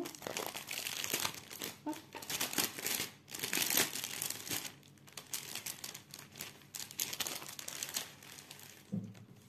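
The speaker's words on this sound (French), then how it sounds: "Donc je vais déballer avec vous." A diamond painting kit package is unwrapped up close, with bursts of crinkling plastic and paper rustling coming and going; a brief exclamation is spoken.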